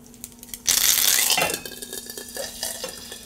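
Garlic and cumin hit hot oil in a cooking pot for dal and burst into a loud, close spluttering hiss that peaks, then fades into softer crackling with light clinks of utensils.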